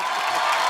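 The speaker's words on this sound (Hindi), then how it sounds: "तालियां" Studio audience on an Indian comedy talk show breaks into applause and cheering, a dense, steady wash of crowd noise filling the short moment without pause.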